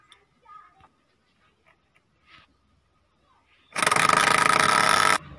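A small motor in a toy tractor built from matchboxes whirs into a loud, steady buzz for about a second and a half, after several quiet clicks and faint rustles.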